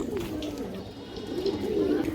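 A female pigeon coos in low, steady, repeated murmurs from close by, with the cooing continuing throughout and overlapping.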